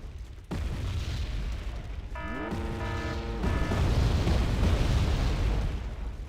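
Mortar and artillery shells bursting in Wargame Red Dragon, deep booming blasts rolling over one another under a dense rumble, with a brief tonal battlefield cue in the middle and no voices.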